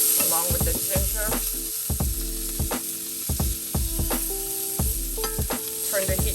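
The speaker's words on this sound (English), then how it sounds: "So I'm going to go ahead and try to stir this along with the ginger" Garlic and ginger stir-fried in a hot pan for a vegan oyster mushroom dish: steady sizzling with repeated sharp scrapes and knocks of the utensil against the pan, close and loud, no talking.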